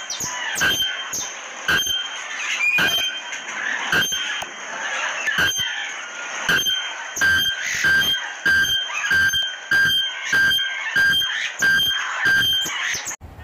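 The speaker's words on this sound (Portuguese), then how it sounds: "A araponga é muito conhecida porque ela tem um grito muito estridente" Bare-throated bellbird (araponga) calling in repeated loud, shrill, metallic bursts, many sharp strikes in quick irregular rhythm over a bright sustained ringing tone, close and prominent with no talk.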